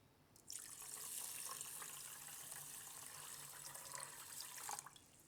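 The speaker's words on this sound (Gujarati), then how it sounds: "ભાતને આપણે ધોઈ લીધા છે, તો એમાં આપણે પાણી નાખી દેવું" Water streams steadily onto washed rice in a container for several seconds, a bright splashing flow that starts and stops abruptly, with no one speaking.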